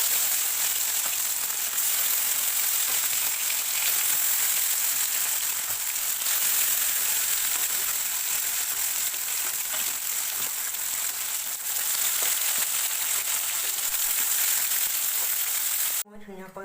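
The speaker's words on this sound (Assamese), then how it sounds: "মাছখিনি মই এতিয়া ফ্ৰাই কৰিম" Rohu fish pieces rubbed with turmeric and salt sizzle steadily in hot oil, a dense continuous frying hiss with scattered crackles that runs unbroken and close for the whole stretch before ending abruptly.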